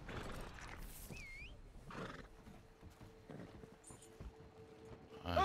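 A horse in the video game Red Dead Redemption 2 Online whinnies and snorts amid faint hoof clops, with a brief high whistling tone and rustling in the background.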